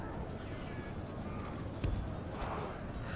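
Cavalry horses gallop in the strategy video game Third Age: Divide & Conquer, a dense, continuous rumble of hooves and battle noise with a heavier thump partway through, no clear speech over it.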